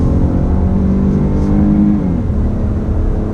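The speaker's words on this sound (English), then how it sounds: "I'm pressing down on that loud pedal enough to allow that transmission to kick down" A 2019 GMC Acadia Denali SUV's engine revs steadily louder under moderate throttle as the transmission kicks down, a sustained droning hum that rises in pitch and then settles.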